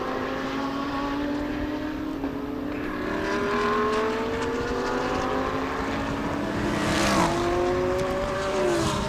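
Audi and BMW race cars in a 2023 Thailand Super Series race, several engines droning and rising in pitch as they pass, a dense continuous roar with one car sweeping close near the end.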